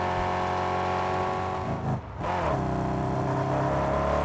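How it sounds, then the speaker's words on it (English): A truck engine in the Mad Max video game, a steady loud droning rumble with a brief dip and throttle shift midway before settling back into a constant roar. "This truck makes a lot of noise, and it handles like crap."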